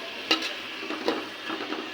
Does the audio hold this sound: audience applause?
no